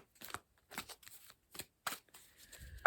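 A deck of tarot-style cards is shuffled on a wobbly table, giving several short, soft riffling bursts with brief pauses between them, close and quiet, ending in a louder slap.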